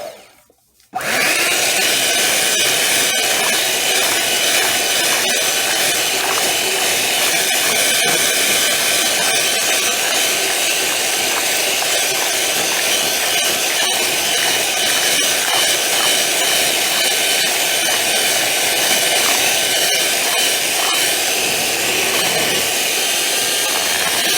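An electric mixer whirs steadily at high speed through sweet potato pie filling, a loud continuous motorized drone that starts abruptly after a brief pause and runs unbroken with no talking.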